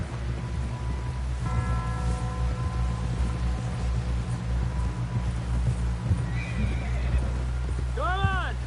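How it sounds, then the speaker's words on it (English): A horse whinnies in a Red Dead Redemption 2 scene over a steady low rumble, with faint hoofbeats and a voice speaking. "Someone help John down off this horse"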